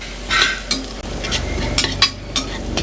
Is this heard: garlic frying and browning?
yes